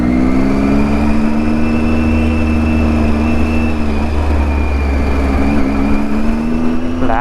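A Triumph Tiger 800 motorcycle engine drones steadily while riding, a close, loud and continuous hum with a slight rise and fall in pitch near the end and no talking.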